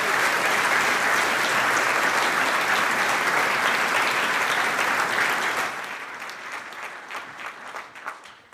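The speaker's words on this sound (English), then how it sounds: "I'd like to give a big round of applause" Sustained loud applause from a crowd at the SAFECON 2019 awards banquet, a dense clapping roar that thins out into scattered claps near the end.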